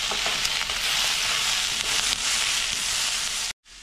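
Tomatoes fry in a pan in a continuous close, loud sizzle with light stirring scrapes, then the sound cuts off abruptly just before the end.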